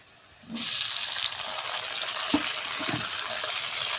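Tap water starts abruptly and then runs steadily, a loud continuous rush as tomatoes are rinsed under it, with a few faint knocks and splashes from the vegetables being handled.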